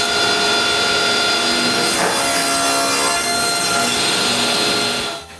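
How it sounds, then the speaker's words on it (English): A saw cuts wood strips for drawer organizer separators, a loud, continuous rasping buzz close by that holds steady for several seconds before trailing off at the end, with no talking. "We cut more strips for the separators. I measure their length and cut them."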